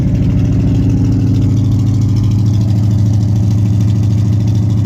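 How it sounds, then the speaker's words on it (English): A 1979 Camaro Z28 engine, recently revived after long storage, idles fast on choke with a loud, close, steady rumbling drone and slight unevenness. "Idling high now because of the choke"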